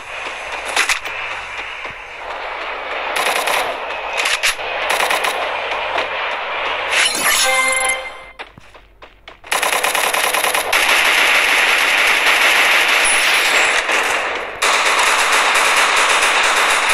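Free Fire gunfire rattles in rapid automatic bursts, loud and close, broken by a short lull before a long dense stretch of continuous firing, with no speech.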